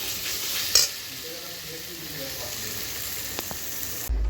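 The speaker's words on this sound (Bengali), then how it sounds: "এই আমি বাটা মশলাও দিয়ে দেব। একেও আমি ভেজে নেব।" Ground spice paste fries in oil for a small fish curry, giving a steady, soft sizzle with stirring scrapes and a brief clatter near the start.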